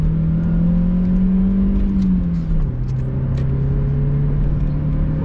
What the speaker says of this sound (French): Il faut faire crier le moteur un petit peu.